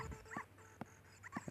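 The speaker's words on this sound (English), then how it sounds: "if we get this dog following us" A dog in The Legend of Zelda: Ocarina of Time, at night near Hyrule Castle, gives several short whimpering yips and barks in irregular bursts, fairly close and alone.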